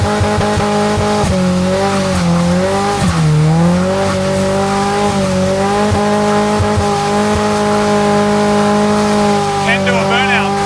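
A turbocharged Toyota Hilux with a bigger engine running on ethanol, revving hard through a burnout with loud, sustained engine drone and tire squeal that climbs and dips in pitch, continuous across the whole stretch.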